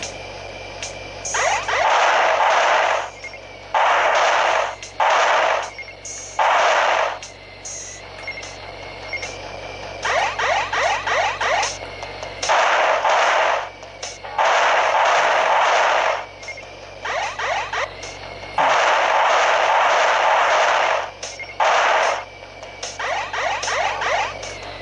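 Gunfire in the Nintendo Switch video game Bridge Strike comes in loud bursts of rapid repeated shots, separated by brief pauses, over a low steady background.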